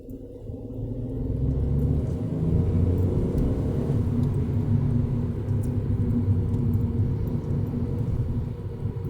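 A Skoda car pulls away from a roundabout, its engine and road rumble forming a steady low drone from inside the cabin that swells slightly and then holds even, with no talk over it.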